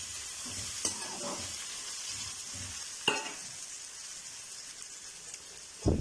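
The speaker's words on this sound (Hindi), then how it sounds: "इसको हमने 1-2 मिनट के लिए सौते करना है।" Onions sautéing in a pan for butter chicken: a constant soft sizzle and crackle throughout, with a few sharp scrapes and clinks of stirring, close up and fairly quiet, no speech.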